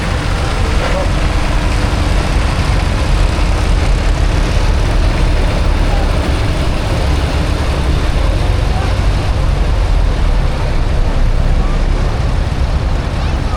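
An articulated tractor turns in a festival arena at the Hellingly Festival of Transport, its engine droning loud, steady and close for the whole stretch while an announcer talks over it.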